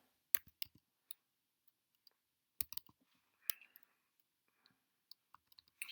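Sparse clicks from typing on a computer keyboard, quiet and close, come in short irregular clusters separated by near silence, with no talking.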